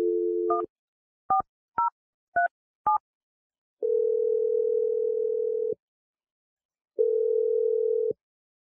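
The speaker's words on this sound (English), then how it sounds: "I'm dialing your number right now." Telephone line sounds: a steady dial tone, then several short beeping keypad tones as a number is dialed, then two long ringback tones separated by silence, clean and close with no talking.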